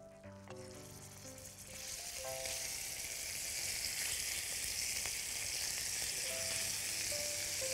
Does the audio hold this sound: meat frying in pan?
yes